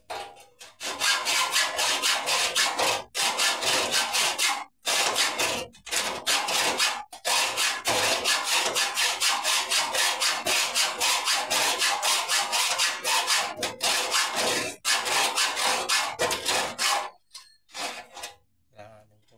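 Hand saw cutting through a long piece of wood in quick, steady back-and-forth rasping strokes, loud and close, pausing briefly a few times before slowing at the end.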